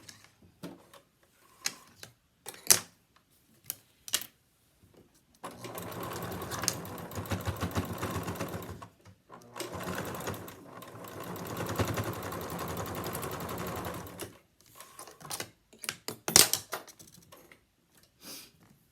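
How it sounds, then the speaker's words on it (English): A sewing machine stitches down the side of a pleated fabric mask in two long whirring runs, separated by brief pauses and small clicks of handling nearby. "I'm going to stitch the side of my mask down where I had earlier pinned it"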